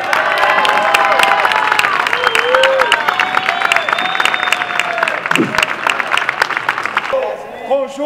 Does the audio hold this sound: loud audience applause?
yes